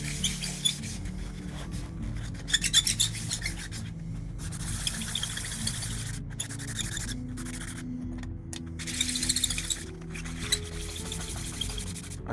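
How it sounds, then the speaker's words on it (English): Back-and-forth rasping of 400 grit wet and dry sandpaper on a board smoothing a 3D-printed fishing lure, in quick bursts of rubbing with short pauses, close and moderately loud. "I've got this board here. This is 400 grit wet and dry"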